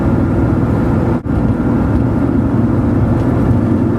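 Porsche 911 3.2 fitted with a SCART Riva-type sport exhaust, engine held at steady revs, a loud continuous low rumble with a brief dip in the middle and no talk.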